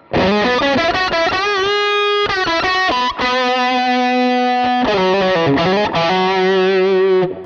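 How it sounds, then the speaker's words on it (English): A distorted electric guitar plays a sustained lead line through a Line 6 HX Stomp set to a low hall reverb: long held notes with a short, tight reverb tail, loud and alone. "let me just go back to the low reverb"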